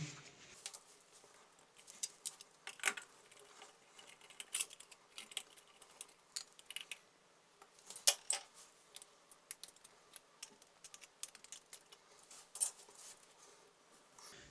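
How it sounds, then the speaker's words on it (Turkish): A wall light switch is unscrewed and pulled from its mounting, a close, quiet run of irregular small clicks, taps and scrapes of plastic and metal with no talking. "İşe öncelikle anahtarımı sökerek başlıyorum."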